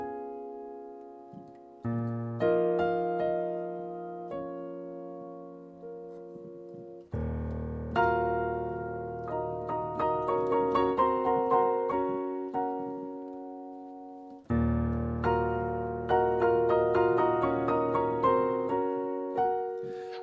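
Solo piano playing Debussy's Clair de Lune, sustained chords and arpeggiated phrases in three swelling passages, each entering firmly and decaying slowly, close and clear with no talking.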